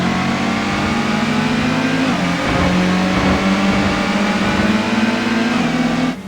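A Subaru's engine in a video game revs and climbs through its gears, a loud, smooth droning whine that dips briefly at each gear change before rising again.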